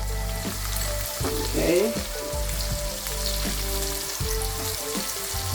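Pepper frying in hot oil in a pan for a spinach, mackerel and egg stew, a close, constant crackling sizzle with a few low clunks of utensils and a brief spoken word partway through.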